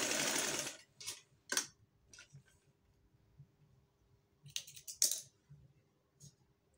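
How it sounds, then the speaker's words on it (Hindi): A sewing machine sews a straight line of stitching across fabric for a ring-sleeve design, running in short, quiet bursts of rapid clicking separated by pauses, with no voices. "ऐसे हम सीधी लाइन लगा लेंगे इसके ऊपर सिलाई।"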